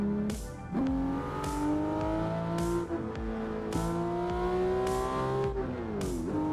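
A race car engine in the PC racing game Assetto Corsa revs and climbs through the gears, each pitch rise broken by a sharp shift click and a dip before the revs climb again, loud and close throughout.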